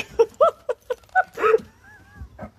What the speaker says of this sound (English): I think those are huskies. I think it's a husky. Those dogs are such crybabies.